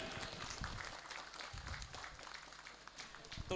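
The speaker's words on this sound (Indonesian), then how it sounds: "Bisa tepuk tangan Bapak Ibu." An audience of parents claps at a Quran graduation ceremony for a children's TPQ class, a faint, continuous patter of applause heard from a distance.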